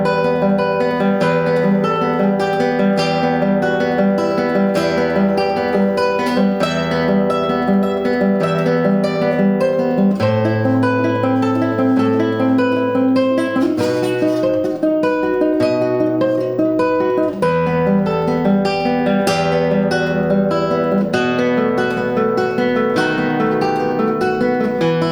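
Classical guitar playing Spanish Romance (Romanza), a steady flowing arpeggio of picked nylon strings over a bass line, played solo and clearly for the whole stretch with no talking.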